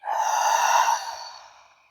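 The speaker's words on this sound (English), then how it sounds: "Breathing out." A single long, soft exhale closes a breathing cycle in a calm restorative yoga session, breathy and near, easing off gradually into silence.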